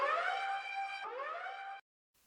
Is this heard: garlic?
no